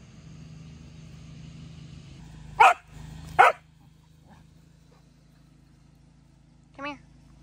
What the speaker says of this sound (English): And then I will feed these crazy dogs